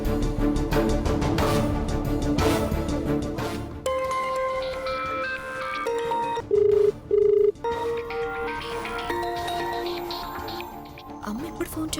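A telephone rings unanswered, giving two short, steady electronic ringing tones partway through, mixed under dramatic background music in a household scene.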